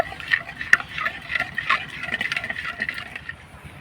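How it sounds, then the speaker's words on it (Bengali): Milk being stirred and mixed by hand while making rasgulla pitha, a continuous soft scraping and swishing with small clinks of the utensil, close and steady throughout with no talking. "এবার নাড়াচাড়া করে আমি একটু দুধটার সঙ্গে মিশিয়ে নেব।"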